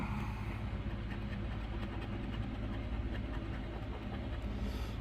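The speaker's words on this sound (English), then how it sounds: "Pardon the fan noise in the background," Steady broadband whir of a fan from an air vent in a bedroom, a constant low drone running unbroken under the whole stretch with no talking.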